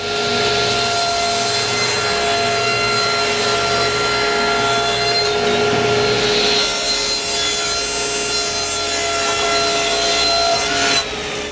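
A saw cuts through sanded wood panels in one long continuous pass, a loud, close, steady whining buzz with grinding texture that cuts off abruptly near the end.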